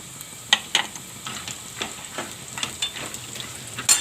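Cashews frying in a pan of raw banana pava, a bright crackling sizzle with repeated spoon scrapes and taps against the pan, close and clear with no talking.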